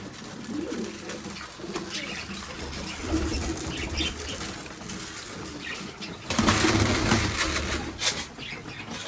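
Pigeons in a loft flap their wings steadily while being fed, a dense rustling flutter that surges into a louder burst of wingbeats near the end, close and continuous.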